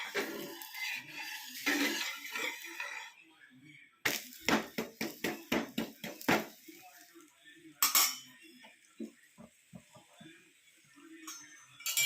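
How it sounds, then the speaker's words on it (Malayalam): A dosa is flipped in a pan with a metal spatula, giving a burst of quick scraping clinks and taps, then sparser knocks. Faint talking runs under the opening stretch. "ദോശയായി നമുക്കൊന്ന് മറിച്ചിട്ട് കൊടുക്കാം"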